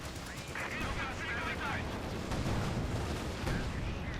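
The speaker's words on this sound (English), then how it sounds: "A lot of light machine gun fires again." Light machine gun and artillery fire in the strategy game Company of Heroes 2, a dense continuous rattle of rapid gunfire with heavy booms beneath, under a commentator's talk.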